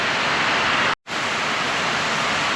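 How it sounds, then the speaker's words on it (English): Heavy rain pours onto an uninsulated workshop roof, a loud, dense, steady hiss filling the space, broken by one brief moment of silence before resuming at full force. "And when it pours down, it's loud as heck in here."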